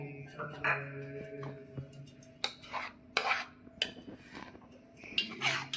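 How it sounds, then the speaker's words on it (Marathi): Semolina roasts in ghee in a pan while a spoon stirs it, giving irregular clinks and scrapes against the metal at a quiet level with short pauses. "आता हा तुपामध्ये भाजून घ्यायचा."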